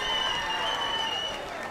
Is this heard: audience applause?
yes